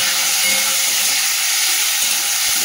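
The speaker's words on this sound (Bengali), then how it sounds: "তেলটা তো ভালো করে গরম হয়ে গেছে, চিংড়ি মাছটা দিয়ে দিলাম" Prawns fry in hot oil in a pan, giving a dense, continuous close sizzle with bubbling crackle and no voices.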